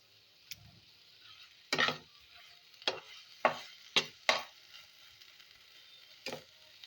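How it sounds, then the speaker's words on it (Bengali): Egg curry masala with a little sugar and water being sautéed in a pan: quiet sizzling under several sharp spatula scrapes and taps, spaced irregularly and heard up close. "এটাকে জল দিয়ে দিয়ে খুব ভালো করে কষিয়ে নিচ্ছি"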